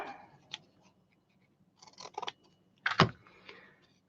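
Scissors cut material for a miniature Christmas hamper in a few sharp, quiet snips spread over several seconds, close up with no talking.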